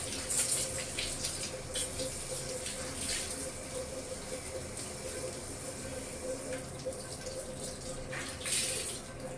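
Clothes being washed and wrung out by hand in clean water, with faint splashing, sloshing and dripping, quiet and close, plus brief louder splashes near the start and end.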